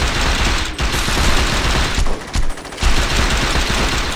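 Loud bursts of automatic gunfire and rapid shots rattle through a Saints Row 2 gameplay scene, near and continuous with brief pauses, and no voices over it.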